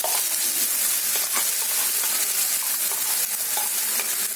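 A continuous sizzle of spice-paste gravy frying in hot oil for stuffed mackerel, with scraping stirs now and then, close and steady throughout, no voices.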